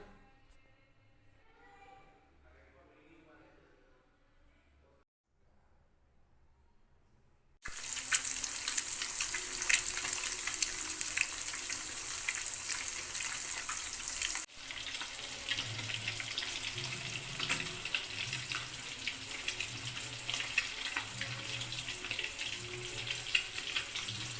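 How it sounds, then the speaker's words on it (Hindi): Fish fries in a pan, a loud continuous sizzling hiss that starts abruptly after a few quiet seconds and then keeps crackling steadily. "तापर हमें माछ को भाजीबा।"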